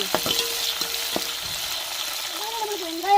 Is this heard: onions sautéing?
yes